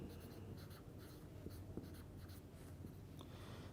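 Chalk or marker scratches out strokes on a board during a chemistry lecture, with short rhythmic bursts of writing that are faint and close, and no speech.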